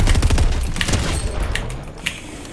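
A short, loud flurry of gunshots rattles in a Fortnite match, dense rapid fire at the start that thins into a few separate cracks as it fades.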